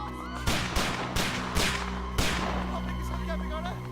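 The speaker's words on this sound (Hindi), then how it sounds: "लगता है कोई गोली चला रहा है।" Five sharp gunshots in a film scene ring out at uneven intervals over a steady low hum, each a sudden loud crack followed by a brief decay.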